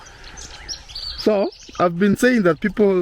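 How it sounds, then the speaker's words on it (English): Birds chirp and tweet around a rural village in Tanzania, with bright repeated calls in the background while someone talks over them. "Look at all those birds."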